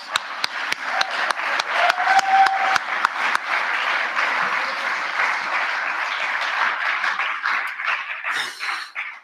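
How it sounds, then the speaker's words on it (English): An audience at a convention speaker meeting breaks into applause, beginning with a few sharp, distinct claps that swell into steady, dense clapping. A brief cheer rises midway, and the applause thins toward the end. "Another clap for Jen, please"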